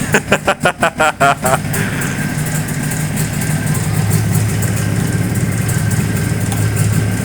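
A Jawa 638 motorcycle engine is started by hand after a few quick sputtering firing pulses, then settles into a steady, even idle that stays loud and close.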